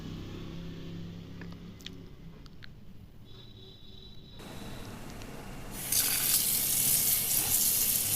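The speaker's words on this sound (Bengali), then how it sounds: "পোলাওয়ের জন্য চালটা ভালো করে ধুয়ে নিচ্ছি" Rice for pulao is rinsed under a running kitchen tap, water splashing steadily into a sink before the flow turns suddenly louder and more forceful near the end.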